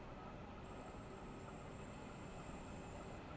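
A London Overground train in Train Sim World 5 passes below, heard as a faint, steady rail rumble with a thin high whine running through, with no talking.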